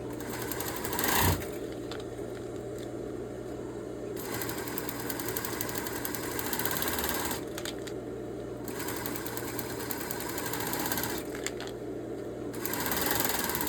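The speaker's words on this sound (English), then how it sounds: "I'm just going to stitch it down." A sewing machine runs steadily as it stitches down the edge of a pet food bag being made into a grocery bag, a continuous motor whir with a few brief pauses and restarts.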